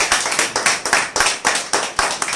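A church audience claps hands in praise to God, a dense, loud burst of many hands in a steady, slightly pulsing rhythm with no talking.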